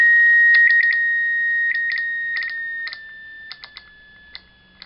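A homemade continuity tester gives a steady high-pitched tone while probed through resistors, the beep broken into short stuttering bursts as contacts are made and released, loud and close.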